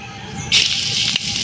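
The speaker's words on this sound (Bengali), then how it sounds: "তেল গরম হয়ে গেছে এবারে ফোড়নে দিয়ে দেব কালো জিরে" Black cumin seeds dropped into hot mustard oil in a wok, with a sudden bright sizzle bursting up and holding steady, a brief crackling flare near the end, close and fairly loud.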